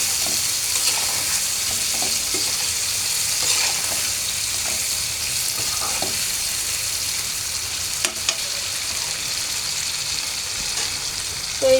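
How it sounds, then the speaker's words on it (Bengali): Chicken liver fries in a hot pan, giving a loud, steady sizzle throughout, with occasional soft scrapes and clinks of stirring. "আমি এখন কলিজা ভাজি করে ভুনা করে নেব"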